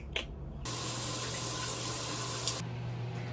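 Water gushing hard from a household shower, switching on abruptly and roaring steadily for about two seconds before cutting off, close and loud against a low background hum, with no talking.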